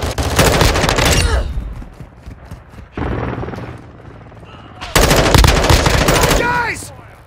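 Rapid bursts of M4 rifle fire in a close firefight, loud cracking volleys in two clusters separated by a quieter gap with shouted voices and ringing echoes.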